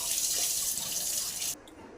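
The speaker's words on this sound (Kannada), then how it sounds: "ಈಗ ಹ್ಯಾಂಡ್ ವಾಶ್ ಮಾಡ್ಕೊ" A tap runs steadily while hands are washed under it, a close, bright hiss of flowing water that cuts off abruptly near the end, leaving only a faint drip and room tone.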